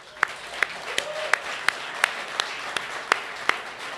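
One person claps slowly and steadily for a podcast guest, the footballer Dom Dwyer: about ten sharp, evenly spaced claps close by over a quiet room hum.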